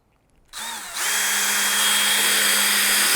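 A power drill starts with a brief spin, then runs steadily and loudly for a couple of seconds while driving screws into wood during an observatory build.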